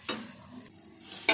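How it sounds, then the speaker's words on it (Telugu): Mint, coriander and tomato pieces fry in a pan, with a soft sizzle under two sharp scraping stirs at the start and end. "ఈ పుదీనా, కొత్తిమీర, ఈ టమాటా ముక్కలు ఇలా వేగితే సరిపోతాయి"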